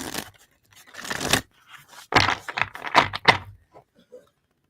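A large deck of stiff, new oracle cards being shuffled by hand, giving bursts of riffling and slapping rustles in uneven clusters, close and moderately loud.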